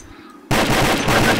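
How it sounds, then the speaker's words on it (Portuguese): A sharp, loud burst of gunfire in a Counter-Strike-style bomb-plant round, erupting suddenly after a quieter background and sustaining briefly like rapid shots. "Que belo tiro!"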